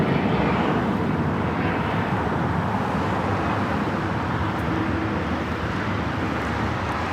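A Japan Airlines Boeing Dreamliner jet at LAX gives off a steady, broad engine roar that holds at a constant level throughout, mixed with airport wind and background rumble.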